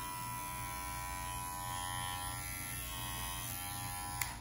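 A budget 5-in-1 battery-powered pet clipper runs continuously up close, a steady high electric buzz with a faint hum beneath and a brief click near the end, no talking.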